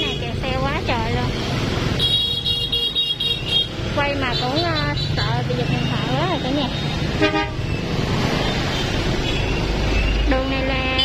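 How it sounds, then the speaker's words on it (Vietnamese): Car horns toot repeatedly over a steady roar of engines in a jammed street on Phạm Hùng, Saigon, where crowds queue for fuel during a shortage; a voice talks throughout over the honking. "Từ sáng tới giờ cái này kẹt xe quá trời luôn."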